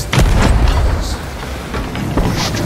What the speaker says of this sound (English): they're already shooting at us